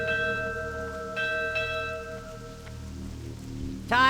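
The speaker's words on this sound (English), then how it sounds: "it's a nice rainy day in Stranglethorn." Rain falls in Stranglethorn in World of Warcraft, a soft steady patter under sustained, bell-like ambient tones, with a brighter chime near the end.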